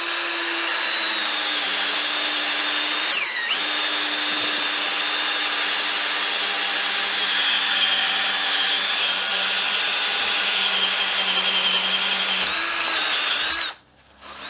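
A Ryobi cordless hammer drill drilling on its low setting gives a loud, steady motor whine that holds for most of the run, with a short dip early on before cutting off near the end.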